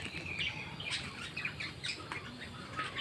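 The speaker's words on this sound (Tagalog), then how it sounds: "Indian ringneck parakeets." Indian ringneck parakeets at a nature park give sharp, repeated squawks and chirps, moderately near, over steady outdoor background noise with no talking.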